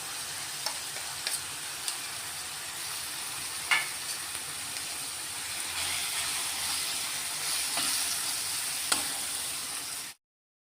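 Crushed green peas, one large bowl, go into a hot pan for paratha filling and sizzle steadily, with occasional scraping and stirring clicks, close and continuous until an abrupt stop.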